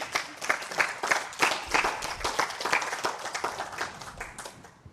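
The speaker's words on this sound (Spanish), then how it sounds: "Dar un aplauso al Señor." Congregation applauding in a church class, a dense burst of many hands clapping that rolls on steadily for several seconds, fairly close and without speech.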